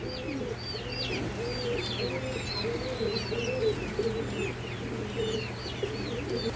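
Racer pigeons at a pigeon farm coo continuously in overlapping, rolling phrases, close and fairly loud, with scattered higher chirps from other birds above them.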